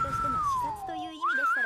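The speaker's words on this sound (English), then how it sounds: "she's trying to whistle" Someone attempts a whistle: a thin, wavering tone slides slowly downward, breaks off, then rises again in a short wobbly pitch, with other sound underneath.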